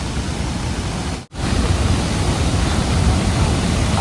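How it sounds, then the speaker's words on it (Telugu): Athirappilly waterfalls in Kerala roar as a loud, dense, broadband wash of falling water. The roar is steady and continuous, broken once by a brief dropout, with no voices. "అత్రవల్లి వాటర్ ఫాల్స్"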